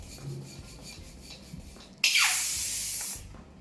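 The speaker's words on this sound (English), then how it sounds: "I will inflate it, and then I will take the air out to soften the balloon." A 160Q latex balloon is deflated to soften it: soft rubbing handling sounds, then a sudden loud hiss of escaping air that fades and trails off over about a second and a half.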